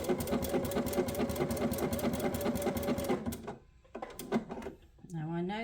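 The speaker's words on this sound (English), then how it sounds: "I'm just going to stitch it really close to the edge" A sewing machine runs in a fast, even stitching rhythm along the very edge of a fabric notebook cover, then stops, leaving a few short bursts before a voice speaks near the end.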